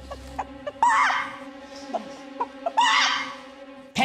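A person imitates a clucking chicken with two loud, drawn-out squawks separated by short, sharp clucks, close and clear against a quiet background.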